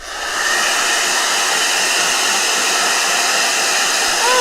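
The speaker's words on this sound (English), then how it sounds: "Blow dryer." A blow dryer runs on wet Miya Himi gouache paint, giving a loud, steady rushing whir that starts within the first half second and holds without a break.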